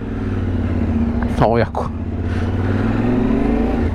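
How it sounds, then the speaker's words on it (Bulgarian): A newly bought motorcycle, a TNR model, ridden on the road, its steady engine drone running throughout with a brief louder surge midway, while a person speaks briefly over it. "И сега си карам моят си мотор."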